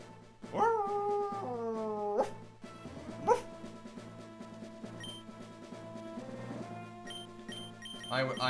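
A person imitates a dog, letting out two drawn-out howling barks followed by a softer whine, close and loud over quiet background music, with speech mixed in.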